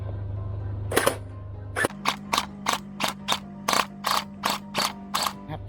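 A gel blaster running on an 11.1 V battery fires about a dozen sharp shots through a chronograph, close and loud, at first single and spaced, then in a quick steady rhythm over a faint motor hum.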